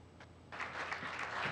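An audience at a World Braille Day event honouring visually impaired students breaks into applause, a dense patter of clapping that begins abruptly after a quiet moment and holds steady, moderately loud, to the end.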